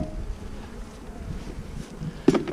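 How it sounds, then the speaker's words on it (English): Honey bees buzz inside an opened hive during late-autumn hive work, a low steady drone close to the microphone with wind rustle and a brief louder bump near the end. "there's a pile of bees in there"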